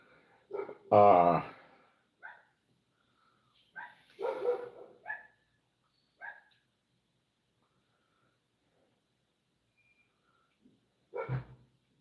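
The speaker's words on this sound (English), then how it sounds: "I just hear the dog." A dog barks in a few short, separate bursts at mid distance, spaced out across otherwise quiet stretches, with one louder cluster near the start.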